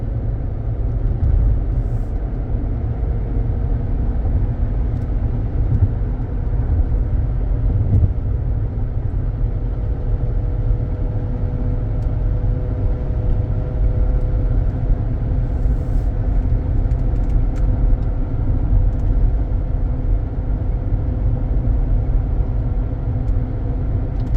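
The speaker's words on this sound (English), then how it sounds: "It has good pickup, good acceleration going up this hill." Steady low engine rumble and road noise from inside a 2018 Jeep Cherokee accelerating up a hill, a continuous droning hum with faint tonal whine rising slightly, no speech.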